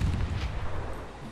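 A cannon in the video game Guild Wars 2 fires with a deep, rumbling boom that rolls on and fades over a second or so, loud and alone.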